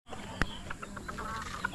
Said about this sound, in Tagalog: Ito po yung mga alaga nila dito na mga manok